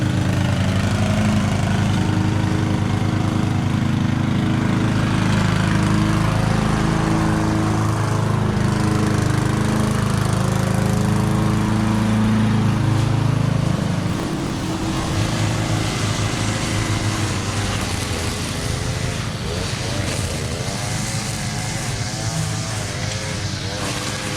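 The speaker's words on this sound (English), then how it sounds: "Done with push mowers and weed eaters only due to the limited access into the backyard." Push lawn mower cutting through an overgrown lot with limited backyard access, a loud steady engine drone that holds for most of the stretch, then dips slightly and continues working under varying load.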